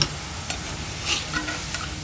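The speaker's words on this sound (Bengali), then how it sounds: "এই যে ভুটভুটিটা যখন থেমে যাবে তখন হয়ে যাবে।" Homemade chanachur frying in hot oil, a steady low sizzle with soft bubbling and a few light pops and ticks, close and fairly quiet, with no voices.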